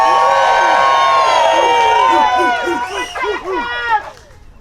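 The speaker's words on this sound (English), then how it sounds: "Everybody on the True Texas team, let me hear you shout." A political rally crowd outside the Texas Governor's Mansion yelling and cheering loudly in a sustained wave of overlapping voices and whoops, fading toward the end.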